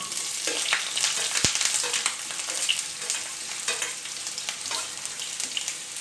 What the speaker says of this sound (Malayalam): വെളിച്ചെണ്ണ ഒഴിച്ചു കൊടുക്കാം നമുക്ക് അതിലേക്ക് ഉള്ളി ഇട്ട് കൊടുക്കാം